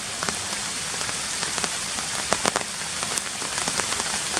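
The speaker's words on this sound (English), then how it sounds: "And as you can see, here comes the rain." A rain shower patters down at a lakeside fishing swim, a steady hiss of falling rain with scattered sharper drops tapping on nearby surfaces, fairly close and continuous, with no talking.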